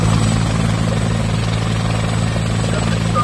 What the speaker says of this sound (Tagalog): Mga puting helicopter ito. Okay? Mga mga pang Malacanang talaga, presidential chopper.